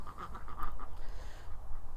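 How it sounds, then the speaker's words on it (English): Several ducks quack in quick, nasal bursts close by in a backyard poultry yard, a rapid cluster early on, then fading into rustling. "The noise you can hear is the ducks,"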